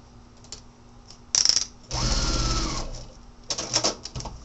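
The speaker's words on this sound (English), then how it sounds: "I just did a little basting stitch on that." A sewing machine runs a short basting stitch on a paper-pieced quilt block, with a brief burst of stitching, a pause, then a longer steady whirring run and a few final short bursts.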